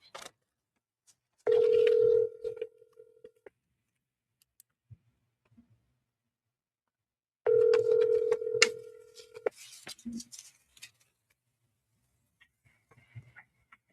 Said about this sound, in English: we're here just making community phone calls, trying to get some information